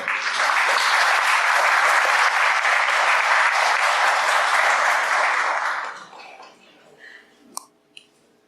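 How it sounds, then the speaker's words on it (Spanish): Dense, loud audience applause welcomes an anthropologist speaker at a lecture on Andean spirituality, holding steady for about six seconds before fading into a few scattered claps and small room noises. "Recibamos, por favor, con fuertes palmas a la licenciada en Antropología Frida Callañauma Jivaca."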